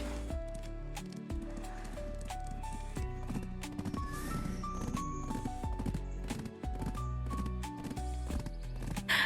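Clip-clop of a donkey mount's hooves as it is ridden in a video game, a steady walking rhythm running under continuous game music.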